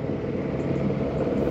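Steady low roar of traffic on a coastal road, with cars passing nearby in a continuous broad rumble and no voices.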